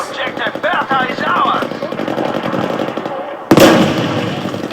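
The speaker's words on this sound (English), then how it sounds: "Let's throw a grenade and see how it sounds." Video game explosions and gunfire play through a compact PC soundbar, a dense, loud, crackling burst sequence with a sharp, heavy blast near the end, over constant game noise.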